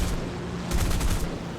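Guns firing from a P-38K fighter in the combat flight game War Thunder, a brief rapid burst of automatic fire over a constant loud engine drone, heard up close with no talking.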